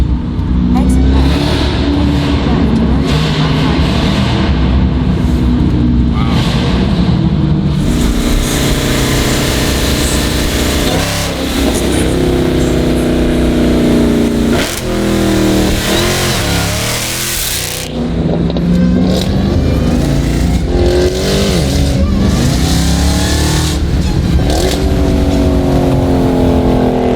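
Dodge Jailbreak muscle car fitted with a new loud aftermarket exhaust, revving hard with throaty bursts, crackling pops and rising and falling engine roars up close, with people talking excitedly over it.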